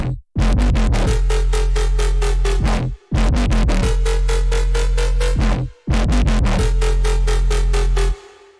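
Drum and bass synth bass loop built from FM sine and saw layers, three repeating bars of loud, clean, rhythmic bass notes with brief gaps between them, no voices.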